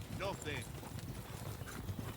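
Horses in the medieval game Kingdom Come Deliverance 2, hooves clip-clopping at a steady walk close by with a short whinny near the start, under a low ambient bed.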